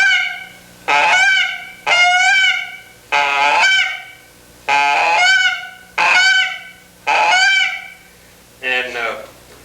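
A hunter blows a handheld goose call, seven loud honking calls in an uneven rhythm that imitate a goose, close and clear, with the last call weaker and broken.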